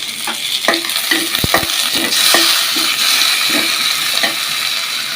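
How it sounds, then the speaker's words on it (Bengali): Loud, close sizzling of chopped tomatoes frying in a pan after onions, with repeated scraping and stirring knocks over the steady crackle. "পেঁয়াজগুলো ভাজা শেষ এখন টমেটো কুচি দিয়ে দিলাম"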